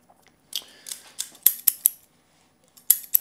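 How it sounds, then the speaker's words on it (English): Scissors snip through hair during an ASMR barber haircut roleplay, in close, crisp bursts of quick cuts separated by short pauses, with no talking. "It's looking better, but we need to cut even more."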